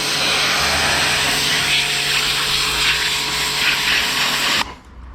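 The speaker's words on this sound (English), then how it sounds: "So now I should be able to just pressure wash all of them." Pressure washer spraying a set of junkyard BBS RC wheels, a steady loud hiss of the water jet that runs unbroken and close for several seconds before cutting off abruptly near the end.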